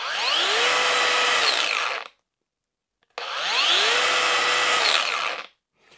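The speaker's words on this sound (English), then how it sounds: "you can hear that it takes almost a second for it to spin up the full speed" A Makita XGT X-Lock cordless angle grinder runs twice in a row, each time whining up to full speed in under a second, holding a steady high-pitched spin for about two seconds, then braking quickly to silence.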